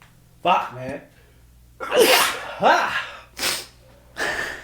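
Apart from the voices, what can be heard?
sneeze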